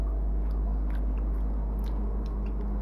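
Someone tasting food cooked in a crock pot, chewing with soft crunchy bites and wet mouth sounds close to the mic over a steady low hum.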